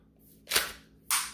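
Two sharp pops from an XYL M870 shell-ejecting toy shotgun blaster firing, spaced about half a second apart, each with a crisp plasticky snap and short tail, close and loud with no talking.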